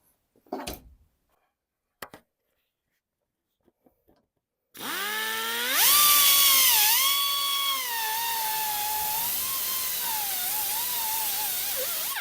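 A power tool cuts through the rusted floor pan of a 1971 Chevrolet Nova. A few faint taps come first, then a loud, continuous high-pitched whine that shifts in pitch as the blade bites into the sheet metal.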